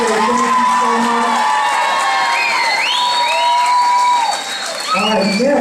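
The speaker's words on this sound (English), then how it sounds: "Everybody give your principal a round of applause and say thank you so much." Middle school audience applauding and cheering for the principal, with a crowd of clapping hands, children's shouts and whoops layered over the noise, loud and continuous throughout.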